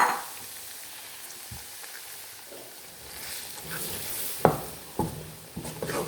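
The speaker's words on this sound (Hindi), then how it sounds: "कॉन्टीन्यूसली हम चमचा चलाते रहेंगे, चमचा आपने हिलाते हुए बंद नहीं करना। तकरीबन 2 मिनट बेसन को भूनने के बाद" Gram flour roasting in ghee over a medium flame, stirred continuously with a spoon, giving a soft steady sizzle broken by a few sharp scraping clicks of the spoon against the pan toward the end.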